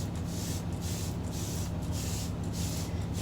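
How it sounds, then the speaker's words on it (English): Bleach-and-water sanitizing solution spritzed from a hand spray bottle inside a semi-truck cab, a steady hissing spray repeated in quick pumps over a constant low hum. "Spray it down again."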